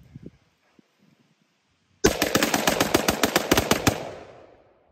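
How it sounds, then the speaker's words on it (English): A rapid magazine dump from an Aero Precision M16A4 rifle with a 20-inch FN upper, fired in binary trigger mode: a dense, loud, fast string of about fifteen shots lasting two seconds, followed by a decaying echo, after a quiet lead-in. "we're going to switch it over to binary, and we're going to get a little closer and try to do a mag dump in there"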